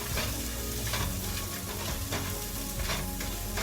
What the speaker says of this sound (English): I'm just going to kind of simmer this around.